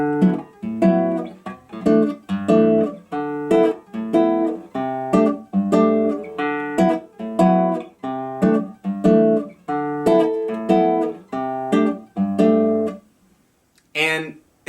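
Acoustic guitar strumming bossa nova C6/9 chords in a steady syncopated rhythm, close and clear, with repeated chord stabs for about thirteen seconds before a brief pause.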